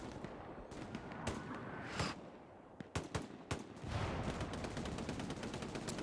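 A bombing run in Hell Let Loose sets off distant explosions and crackling gunfire, a sustained rumbling barrage with scattered sharp reports, fairly faint overall.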